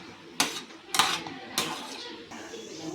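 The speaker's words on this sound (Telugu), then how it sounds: "ఇలా దగ్గర అయ్యేంత వరకు కలుపుతూనే ఉండవలను." A spoon repeatedly scrapes and knocks against a metal pan while thickening Bombay Karachi halva: three distinct metallic clinks roughly half a second apart, then a softer scrape, close and fairly quiet.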